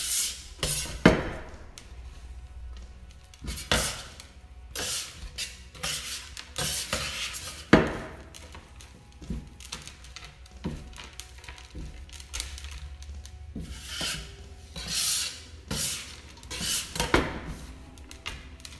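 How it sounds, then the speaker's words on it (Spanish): Sourdough bread dough with raisins being kneaded by hand, repeated soft slaps, thumps and rubbing on a work surface in an irregular rhythm, close by with no talk. "yo voy amasando de cierta manera"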